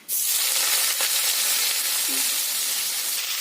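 Cut potatoes frying in oil with black cumin seeds, a loud, continuous hiss of sizzling that starts abruptly and holds steady, with a faint clink partway through.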